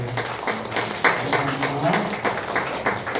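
Scattered clapping spreads through a church congregation during a Sunday service, rising and falling over a few seconds with murmuring voices underneath.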